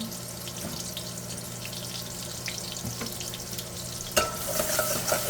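Garlic sizzles steadily in a pan for white radish curry, a continuous close frying hiss with occasional clinks of stirring and a louder flare of sizzle near the end.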